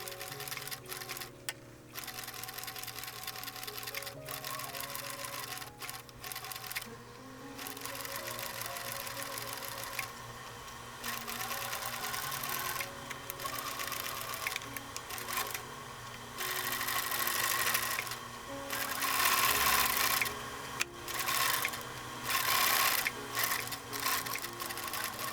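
Sewing machine stitching around a felted wool punch needle bowl filler, a steady fast mechanical whir with rapid needle clatter that runs nearly continuously for about 25 seconds with a few short pauses, close and fairly loud, no talking.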